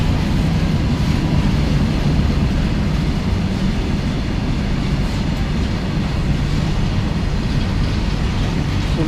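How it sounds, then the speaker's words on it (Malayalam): A BCNA goods train rolls past on Indian railway tracks, a loud steady rumble with faint clattering of wagons that stays even throughout, heard up close with no talk. "BCNA ഗുഡ്സ് ആണ് കടന്നു വരുന്നത്."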